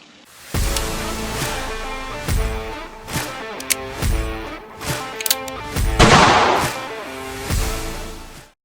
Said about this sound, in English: I'm going to shoot it with my 10-22